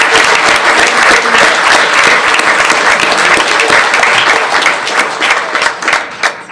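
A loud, dense round of applause from the audience at an 8th grade promotion ceremony for the school's teachers, sustained clapping filling the room and thinning slightly near the end.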